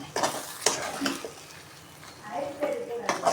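Gongura (pulicha keerai) greens are stirred in a pan over a low flame for thokku, with intermittent scraping and clanks of a spoon against the pan and a gentle sizzle, while a voice speaks over it.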